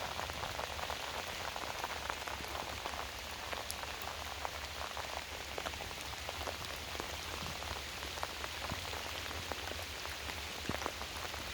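Steady rain falls beside the River Bann during pike fishing, a dense, even patter of drops on surfaces that stays constant throughout with no voices.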